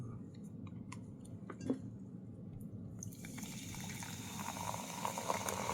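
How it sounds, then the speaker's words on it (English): LaCroix sparkling water fizzes and bubbles steadily after being poured, a soft continuous crackle of carbonation with a faint clink, growing slightly fuller toward the end. "Listen to those bubbles."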